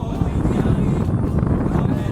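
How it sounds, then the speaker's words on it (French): Heavy wind buffets the microphone while riding an electric unicycle along a Corsican road, a constant loud low roar with no other sounds standing out. "Vous allez entendre énormément de vent normalement."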